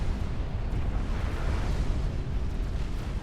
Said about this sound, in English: And he takes an artillery shell to the face.